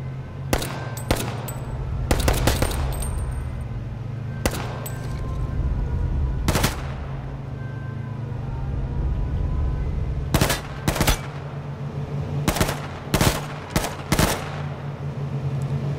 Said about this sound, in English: kill him with a shotgun